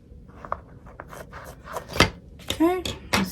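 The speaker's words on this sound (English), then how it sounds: "Now I'm just cutting straight down." Scissors snip through fabric for a stuffed penguin toy in short, close, crisp cuts that come in an irregular rhythm, with a faint voice in the background.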